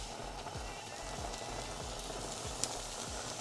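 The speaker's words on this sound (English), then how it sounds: "Let's go ahead and put these on and just listen for that nice sizzle" A steady, crackling sizzle of butter beans frying in a hot pan, fairly quiet and continuous, with a few soft clicks and a faint thump.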